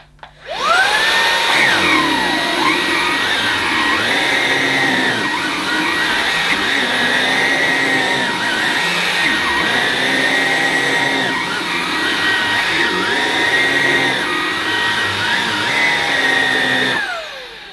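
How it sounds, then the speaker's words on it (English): A Halo Capsule bagged cordless vacuum cleaner on its medium suction setting runs on carpet with a loud, steady whine and a high tonal note. Its pitch sags and recovers rhythmically as it is pushed back and forth, alone for most of the stretch. "I'm just going to leave on that and see how it copes for this initial first use"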